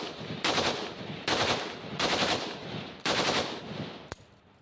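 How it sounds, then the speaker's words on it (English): An AK rifle loaded with buckshot fires four loud, evenly spaced shots in a row, each with a long ringing decay outdoors, followed by a sharp metallic click. "The combatant then empties a magazine of Buckshot"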